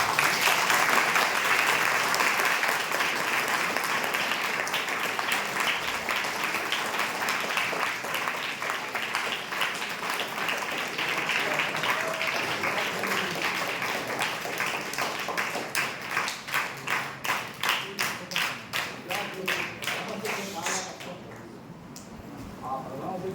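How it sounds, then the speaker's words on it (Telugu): Children applauding loudly at a trust's Subrahmanya Shashti honouring function for teachers and guests, a sustained dense clapping that turns into rhythmic, unison beats near the end before fading. "పిల్లలందరూ గట్టిగా చప్పట్లు కొట్టారు."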